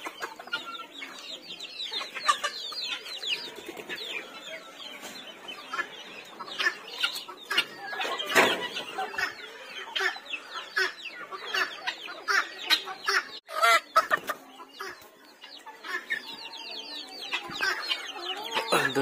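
A chicken and a turkey on a farm cluck and squawk nearby in irregular bursts, with overlapping calls and occasional sharper cries over nearly twenty seconds.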